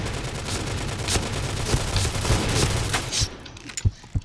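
Rapid automatic gunfire from the video game Point Blank, loud bursts of close shots rattling continuously before breaking into a few separate, heavier bangs near the end, with no talk.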